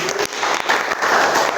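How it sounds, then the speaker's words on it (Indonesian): A classroom of children claps for a classmate in a short, uneven burst of hand claps, fairly loud and close, with a few sharper individual claps standing out. "tepuk tangan untuk Linda"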